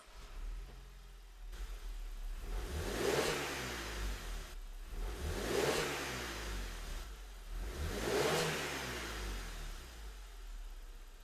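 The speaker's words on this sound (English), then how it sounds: "I can now start the engine, promote a change by depressing the accelerator pedal" A car engine idles, then revs up and falls back three times in an even rhythm, each rise sweeping smoothly before settling to idle.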